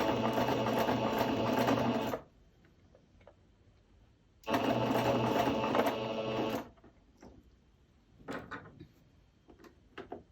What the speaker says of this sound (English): the settings I'll change on my sewing machine